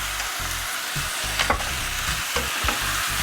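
Seasoned meat mixture being stirred for pumpkin-baked meat, with repeated close scraping and mixing strokes in a steady rhythm and some light sizzle underneath, no voices.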